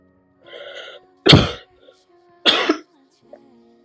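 Two harsh, close coughs from a person with Covid-19, about a second apart, preceded by a short throaty vocal sound.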